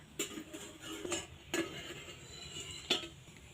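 Metal lid of an idli steamer being handled and lifted off, giving a few sharp metallic clinks spread out and separated by quiet moments, with faint background hiss.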